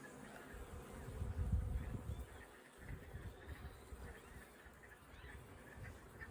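Honeybees buzzing around an April hive building brood on pollen, a soft continuous drone with a brief swell of nearby wingbeats, faint and close.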